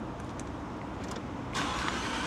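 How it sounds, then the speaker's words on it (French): A supercar's engine starts up after a low rumbling idle-like background, with a sudden louder, broader roar bursting in near the end, close by and without talk. "Donc je vais démarrer le véhicule, tu vas voir, c'est juste incroyable."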